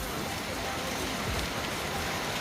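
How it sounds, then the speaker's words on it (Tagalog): Heavy rain pours down steadily during a storm, a dense, continuous hiss with no pauses, close and fairly loud. "lumakas ang ulan"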